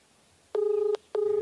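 Two clean electronic dial tones, each lasting under half a second with a short gap between, heard close and alone.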